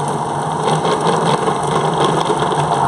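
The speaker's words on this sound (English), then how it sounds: "you want that ball of dough to be spinning around the mixer" Stand mixer kneading pasty dough for short rib of beef pasties, a steady close mechanical whir with a rhythmic thumping as the dough ball spins around the bowl, continuous throughout.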